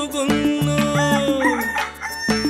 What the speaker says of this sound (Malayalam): പൂങ്കോഴികൾ കൂകുന്നു.